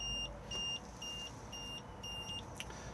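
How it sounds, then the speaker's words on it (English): The fridge warning in a Swift Escape 664 motorhome beeps in a steady series of short, evenly spaced electronic tones, about one every half second, over a faint low hum with no speech. "we will get the red warning triangle and the beeping sound to indicate that something is wrong."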